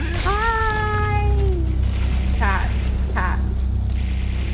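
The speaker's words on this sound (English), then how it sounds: "Cat." A cat in Dead Space 2 meows loudly near the start, a long falling cry, followed by two shorter warbling calls over a constant low hum.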